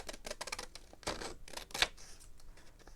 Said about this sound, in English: we're going to go ahead and trim that up.